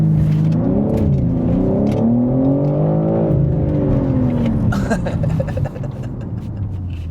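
A 2023 BMW M3 Competition xDrive idles up and holds a steady, droning rev, climbing and easing to build boost before a launch, loud and close from inside the cabin, then settling back down.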